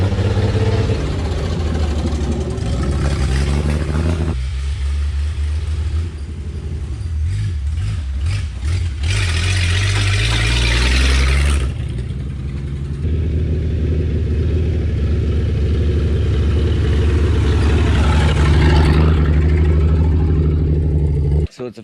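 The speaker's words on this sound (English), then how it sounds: "So it's officially a running, driving Jeep" A Jeep engine runs steadily up close in the woods, giving a loud, continuous rumble with some shifts in pitch and intensity, as though revving or moving, before cutting off abruptly at the end.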